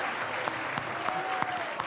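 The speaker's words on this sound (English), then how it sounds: "Round of applause at your table, please" An audience at tables claps together in steady, dense applause throughout, with a faint tonal whine running beneath the clapping.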